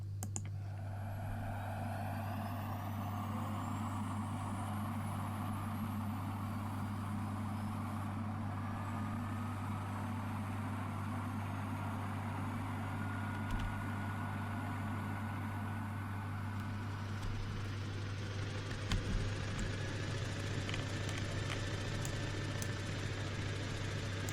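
A military helicopter in a flight sim video game spools up, a steady low engine drone with whining tones slowly climbing in pitch and growing louder over the whole stretch.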